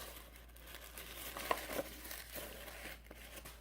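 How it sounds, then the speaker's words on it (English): Paper pulled out of an Influenster beauty box, soft crinkling and rustling with a couple of sharper crackles, faint and close. "And let's pull the paper out."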